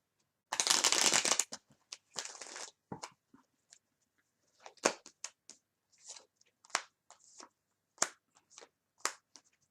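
Tarot cards being shuffled and then laid out one by one during a reading, a loud riffle at first followed by soft, close, irregular flicks, slaps and slides of cards in a quiet room.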